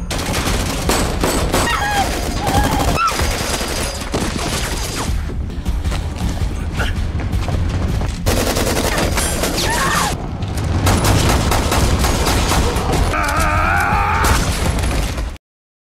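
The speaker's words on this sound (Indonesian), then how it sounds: "Hingga akhirnya adu tembak pun terjadi di sini." Gunfire from a movie shootout, loud dense bursts and rapid automatic volleys with booms and mechanical clatter, running almost continuously with brief gaps before cutting off abruptly.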